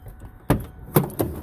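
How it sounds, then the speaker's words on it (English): Doors on a 2009 Ford Ranger XLT extended cab 4x4 being opened: three sharp, close latch clunks in quick succession, the first and second a bit louder than the last, over a quiet outdoor background. "Let's open up the door and the side door."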